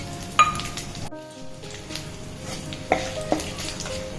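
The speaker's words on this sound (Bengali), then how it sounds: "এবার আমি ফোড়নে দেব হচ্ছে তেজপাতা, শুকনো লঙ্কা আর গোটা গরম মশলা, দারচিনি, লবঙ্গ আর এলাচ" Bay leaves, dried red chillies, cinnamon, cloves and cardamom crackle in hot oil with a light, close sizzle, with a few sharp clinks and scrapes of a spoon against the pan.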